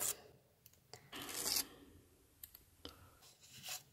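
A paper surprise packet is torn open up close, with a few short, scratchy rips and rustling bursts and light crinkles between them. No one speaks.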